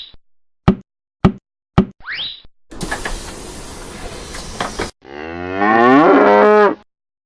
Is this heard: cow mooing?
yes